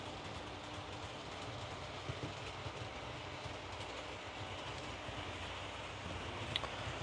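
Roco BR186 model electric locomotive, run under DCC control, running on a track loop, a faint steady whir and low rumble with light rail clicks, continuous throughout and without speech.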